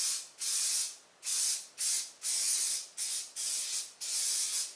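Repeated bursts of spray adhesive hissing onto upholstery foam in quick succession, seven short aerosol blasts with brief pauses between, close and fairly loud.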